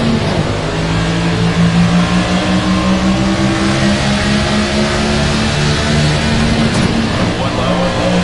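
A NASCAR race car in the NASCAR 25 video game at Daytona holds a loud, steady engine drone, with the rumble sitting close and constant from start to finish.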